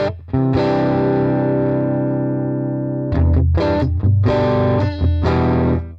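Electric guitar played through a simulated Fender Custom Champ amp in AmpliTube 5: a long sustained distorted chord, then several choppy strummed chords with brief gaps, loud and close with a slightly effected tone.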